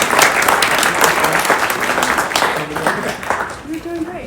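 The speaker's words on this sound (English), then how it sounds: "And another round of applause for them." Audience applause for a student team at a hackathon showcase, dense and steady throughout with a few voices and cheers mixed in near its end.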